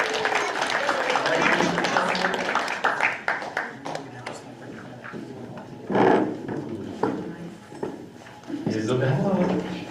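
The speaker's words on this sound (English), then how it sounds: "Let's give Molly a nice round of applause" At a school Board of Education meeting, people clap for a student called up to the front. Scattered applause rises at the start and again near the end, mixed with voices talking and some shuffling in the room.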